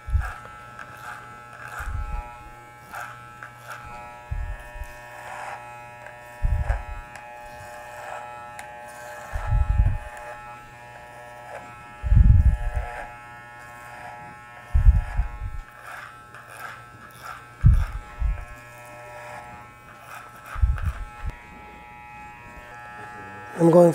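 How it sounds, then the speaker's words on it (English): Electric hair clipper buzzing steadily through a men's haircut, run along a comb to set length, with repeated short passes and bursts of cutting noise close to the listener while a person talks over it. "The clipper follows the comb."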